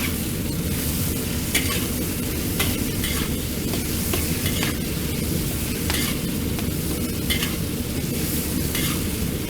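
Green beans dry-frying in a wok give a constant close sizzle, with sharp scrape-and-clatter stirring strokes spaced irregularly throughout and no talk.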